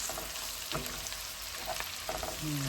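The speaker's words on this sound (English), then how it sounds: "I'm just going to fry that for just a couple of minutes" Garlic butter chicken frying in a pan, a steady broadband sizzle that holds throughout with a few soft stirring scrapes and clicks mixed in, close and alone without any talking.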